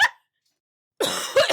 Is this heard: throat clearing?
yes